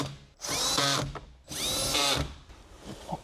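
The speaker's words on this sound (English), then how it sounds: "And then you could use your power tool." A power tool whirs in two short bursts, each about a second long, with a brief pause between them, close and loud, tightening bolts while installing an amplifier in a Subaru WRX.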